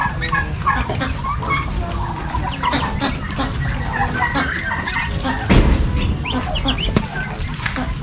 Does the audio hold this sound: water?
no